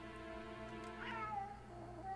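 Cats meowing in the video game Chulip, a couple of drawn-out meows rising and falling over a steady background music drone, soft and fairly faint.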